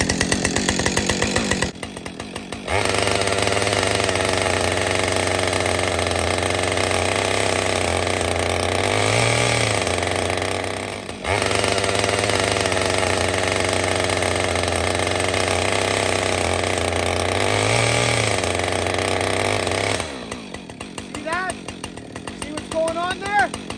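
A Husqvarna 562xp chainsaw, a Mark II model being broken in, revs loud and steady while cutting wood, with two short drops to idle partway through and a brief pause near the end.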